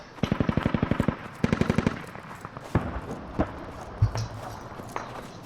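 Gunfire in the video game Squad, with two rapid bursts of automatic fire up close followed by scattered single shots and thuds, loud and punchy against a quieter background.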